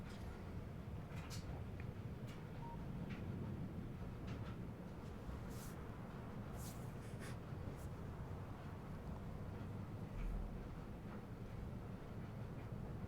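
Steady low rumble of an iron plate train rolling across a Factorio factory map, continuous and moderately loud with faint clicks and ticks of machinery scattered over it, no voices.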